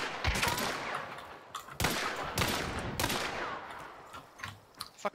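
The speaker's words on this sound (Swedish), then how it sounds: "Jag satt han ett skott med sparksen." Sparks rifle shots in Hunt: Showdown ring out as a handful of loud, sharp cracks spaced about a second apart, each trailing a short echo, followed by a few fainter distant pops.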